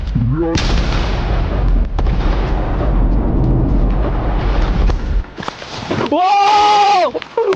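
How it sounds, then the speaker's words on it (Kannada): Half a kilogram of sodium metal thrown into a farm pond bursts with a loud, sustained roaring blast of churning water lasting several seconds. A brief pause follows, then a shrill bleat-like cry. "ಈಗ ಅರ್ಧ ಕೆಜಿ ಸೋಡಿಯಂ ಮೆಟಲ್ ಒಳಗಡೆ ಹೋಗ್ತಾ ಇದೆ"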